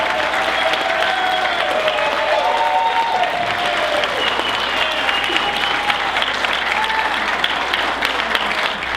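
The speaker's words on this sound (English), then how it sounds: "Let's give a big round of applause for our mayor, Jeremiah Healy" An audience at a Jersey City mayoral forum applauds the mayor, steady sustained clapping from many hands filling the room for several seconds with a few voices calling out.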